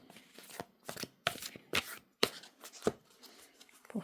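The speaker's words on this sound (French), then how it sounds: "on va remélanger un petit coup" Tarot cards shuffled by hand, a quick series of crisp riffling snaps and taps at close range, soft and uneven in rhythm.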